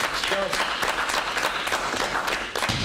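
A meeting audience breaks into applause as a receivers' meeting is adjourned, dense clapping throughout with voices mixed in.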